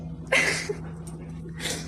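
A pet dog whimpering and panting indoors, with short breathy bursts and faint whines close to the listener, with no speech.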